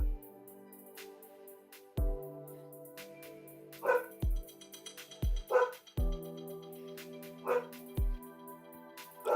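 A pet dog named Phoebe barks at someone outside in a series of sharp, fairly close barks spread across the moment, with quieter background sounds between the bursts.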